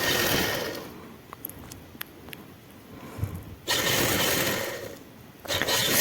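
A sewing machine stitches along a trouser hem at the leg opening in short, uneven bursts, with brief pauses between runs and a louder, steadier stretch of stitching near the end. No voices are heard.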